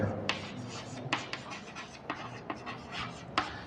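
A pen scratches across paper in short quiet strokes, with a few sharper ticks as letters are formed, close and faint with no talking.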